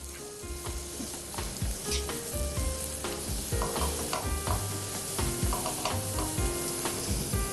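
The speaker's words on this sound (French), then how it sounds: "Donc, je remue" Food stirred in a hot pan during Algerian home cooking, a loud continuous sizzle with repeated scraping and clinking strokes of the utensil, close up, with no talking.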